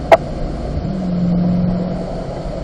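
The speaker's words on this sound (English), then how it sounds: "Mickey, I'm in fifth gear now." A Corvette engine in fifth gear on a Las Vegas track, a steady low in-cabin drone holding an even pitch after a brief knock at the start, close and loud with no speech.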